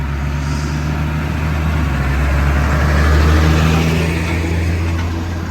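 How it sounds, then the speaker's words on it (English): Tractor driving past on a country road near Morchard Bishop in Devon, a loud steady low engine rumble that swells as it comes closest midway and then eases slightly, with no talking. "It is a tractor."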